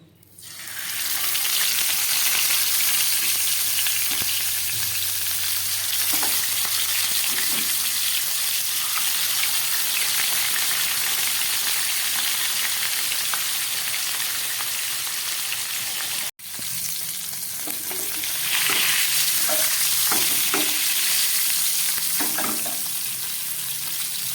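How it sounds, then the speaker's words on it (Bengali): Climbing perch frying in hot mustard oil, a loud continuous sizzle and spatter that runs unbroken, briefly cuts out, then resumes with faint clinks from stirring. "তেলটা গরম হয়ে গেছে, এবার দিয়ে দিচ্ছি মাছগুলো।"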